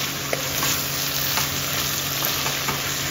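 Mint leaves crackle and sizzle in hot oil with fresh coriander while a biryani base cooks, a dense continuous frying hiss with small pops, close and steady with no talking.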